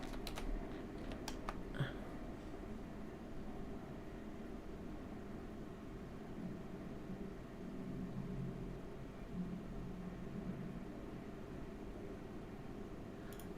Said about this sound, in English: I'm just gonna type in intro.